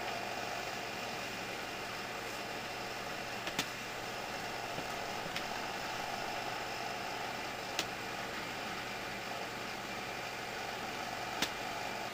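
A Superior fan-forced radiant heater runs with a constant airy hiss and low hum, punctuated by a few faint, sparse ticks, steady throughout and with no voices.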